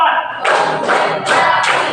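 A group in a classroom clapping together in a steady rhythm: four loud, even claps about half a second apart over low room noise, with no talking.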